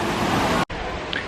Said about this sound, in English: Store so big it's got a waterfall in it.